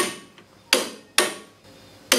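Tekton torque wrench set to 100 foot-pounds gives sharp, loud metallic clicks, three strong snaps spaced about half a second apart with a fainter tick before them, close up and without talk.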